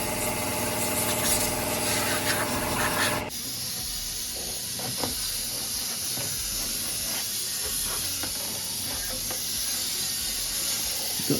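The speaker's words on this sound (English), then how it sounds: "Got this little hand steam cleaner, which is a bit naff" A small handheld steam cleaner runs on an old Ford's dashboard, first a loud rough blast of hissing spray, then a steadier, thinner hiss with faint scrubbing and clicks underneath, close by and continuous.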